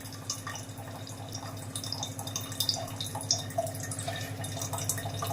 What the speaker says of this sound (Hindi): नीचे देखो पानी गिर रहा है लोटे में पाइप के द्वारा।